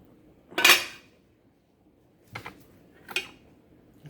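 Utensils clink and scrape inside a pot of bean soup, with one louder clatter followed by two softer taps at close range and no talking.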